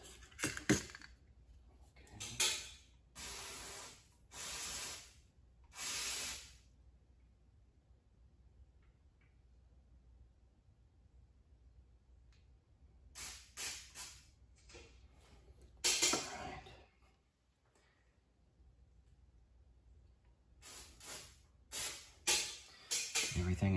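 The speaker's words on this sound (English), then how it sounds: "Then we're going to wash it off with some carb spray." Carb cleaner sprays over a Honda GCV160 carburetor in several short, close hissing bursts, grouped in clusters with quiet gaps between them.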